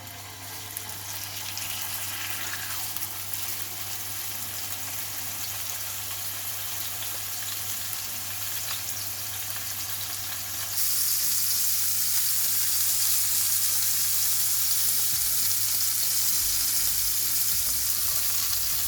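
Steak frying in a hot pan for a steak sandwich, a loud continuous close sizzle with a steady crackle that grows brighter and more intense partway through.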